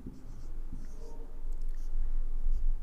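Pen scratching on paper while trigonometry is written out by hand in a lesson, a soft close scribble of short strokes over a low room hum.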